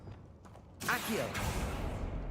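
A spell cast in the Hogwarts Legacy video game gives a sudden magical whoosh with a creaking, mechanical swirl, rising loud after a quieter lead-in and holding steady to the end.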